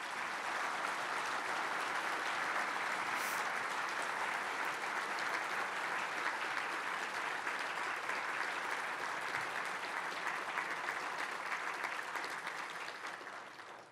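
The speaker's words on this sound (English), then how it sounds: "Let's give all six candidates a round of applause." Sustained applause from the audience at an agriculture and rural issues forum for six gubernatorial candidates, dense even clapping holding steady for about thirteen seconds before tapering off at the end.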